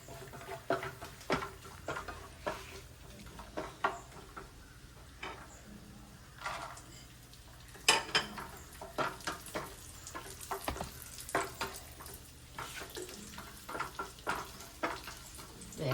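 Vegetables for a vegetable biryani sautéing in a pan, a soft sizzle broken by frequent scraping and stirring strokes in an irregular rhythm, close and moderately quiet, with no talk.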